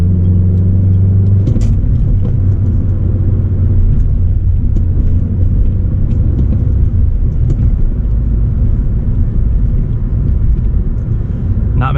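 A 1997 Acura CL with a manual gearbox accelerating hard, heard from inside the cabin as a loud, steady engine rumble that builds after a brief shift thump early on and continues for about twelve seconds.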